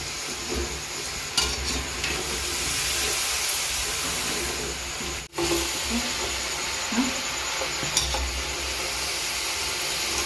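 Cabbage manchurian balls deep fry in oil, a steady close bubbling hiss that continues throughout, with a few clatters of stirring and a brief dip in the middle.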